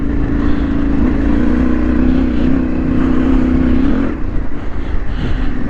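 A vehicle labours up a steep hill in second gear past concrete slabs and livestock, its engine droning loud and steady with a wavering pitch, then easing and turning rougher near the end.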